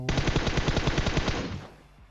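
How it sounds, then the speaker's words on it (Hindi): An M249 machine gun in the video game PUBG Mobile fires a rapid, continuous burst of shots for about a second and a half. The burst is loud and close, then cuts off into a brief fading echo. "ऊपर पहाड़ी की तरफ कोई एम टू फोर नाइन पटका रहा होता है सौ गोलियां चला रहा होता है"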